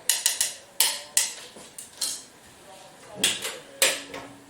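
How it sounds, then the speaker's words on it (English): A small whisk clinks and taps against a small bowl while mixing dry cookie ingredients, with irregular sharp knocks and scrapes at close range. "I just tend to use a little small whisk and just mix the dry ingredients all together in this small bowl"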